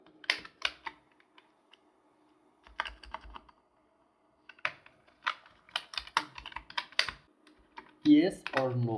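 Code being typed on a computer keyboard in short bursts of close, crisp key clicks separated by pauses, ending with a brief voice.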